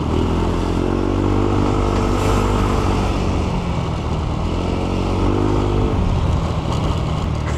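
Stock-engined Yamaha Aerox v1 scooter fitted with a power pipe exhaust idles and revs close by, a loud continuous motor drone with gentle rises and falls in pitch and a little mechanical clatter.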